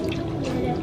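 Water pours into a plastic seed starter kit tray in a short, continuous splashing run, close and fairly loud, with a voice faintly underneath.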